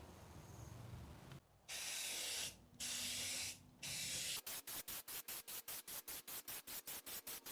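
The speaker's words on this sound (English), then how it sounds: "I can start to do the first coat of primer, and then yeah, let's go." High-temp primer spray-painted onto a K24 valve cover, three long hissing bursts from an aerosol can followed by a rapid run of short, even spray pulses, close and alone.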